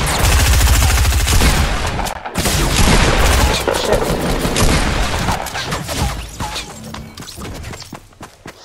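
Rifle gunfire in the battle royale game Fortnite, dense rapid shots and bursts in a loud, chaotic firefight that thins out toward the end.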